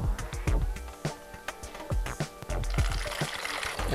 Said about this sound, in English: take some liquid and pour it in that funnel and fill up the bottle